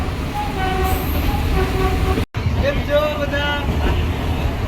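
A passenger train heading toward Girnar moves slowly. A loud, continuous rumble and rattle run throughout from inside the carriage, with a brief dropout midway. Voices can be heard over the train.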